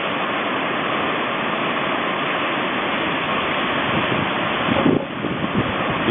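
Continuous roar of ocean surf at a forgiving break with gentle spilling waves, loud and close, with a wash surging briefly near the end.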